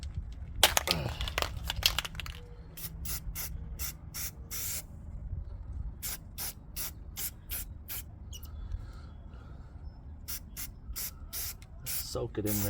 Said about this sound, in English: I have to spray it some rust paint